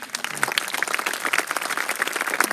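A commencement audience breaks into lively applause, many hands clapping in a dense, bright patter at moderate loudness throughout.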